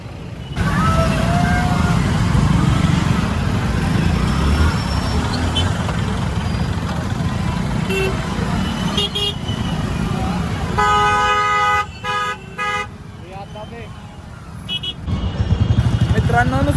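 Congested main-road traffic during the Bavdhan Bagad yatra fair in Satara, Maharashtra: engines rumble continuously while several car and motorcycle horns toot in scattered bursts, with people talking over the din.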